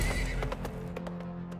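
A horse ridden in the Weird West video game, with brisk clip-clop hoofbeats and a whinny at the start, close and clear with no talk over it.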